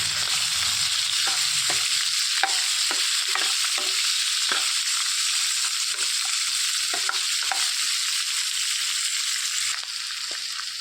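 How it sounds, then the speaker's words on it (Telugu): Chopped onions frying in hot oil, a dense, constant hiss held for several seconds with faint clicks and light stirring underneath, close and steady. "తరిగి పెట్టుకున్న ఉల్లిపాయలు వేసేసుకోవాలి దానికి రంగు వచ్చే వరకు వేడి చేసుకోవాలి"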